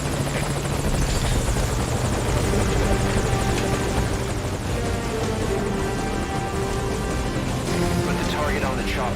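A helicopter hovers in a video game, its loud continuous rotor chop and engine drone filling the scene while voices talk over it.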